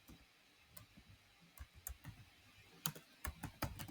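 Clicks from a computer keyboard as a short phrase is typed, sparse and irregular at first, then quicker bursts of keystrokes near the end, faint and close with no talking.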